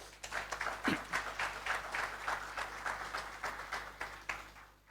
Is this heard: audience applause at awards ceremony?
yes